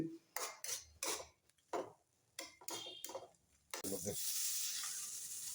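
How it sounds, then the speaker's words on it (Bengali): Onions fry in hot oil in a pan: a spoon scrapes and clatters against the pan in uneven strokes, then a steady, close sizzle takes over. "পেঁয়াজটা ভেজে নিচ্ছি।"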